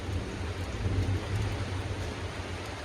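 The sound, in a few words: heavy rain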